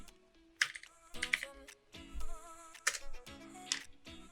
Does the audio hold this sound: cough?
no